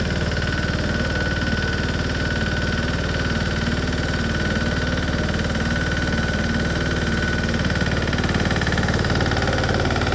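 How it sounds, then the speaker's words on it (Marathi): An Apollo mini tractor's engine runs steadily at idle throughout, a loud, even, throbbing drone with a knocking pulse as the machine turns in place. "आम्ही तुम्हाला जाग्याला ट्रॅक्टर वळवून कसा दाखवतोय"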